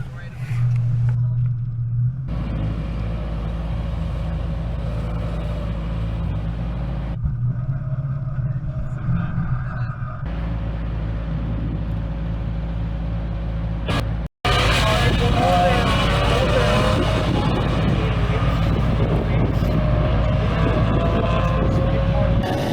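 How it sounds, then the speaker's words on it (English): Race cars, including a Cobra, rumble with a deep, continuous engine drone that stays loud throughout, briefly cuts out, then returns as a harsher, louder roar, with a voice talking over it. "These cars sound incredible."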